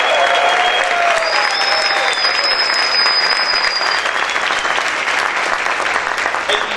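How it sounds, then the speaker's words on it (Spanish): A church congregation shouts and claps loudly for the Lord, dense sustained applause mixed with whoops and cries from many voices, staying strong from start to finish. "¿Cuántos pueden gritar y aplaudir fuerte al Señor?"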